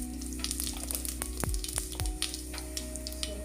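Cumin seeds frying in about two tablespoons of hot oil, a steady close sizzle with scattered pops and crackles running throughout, no voices.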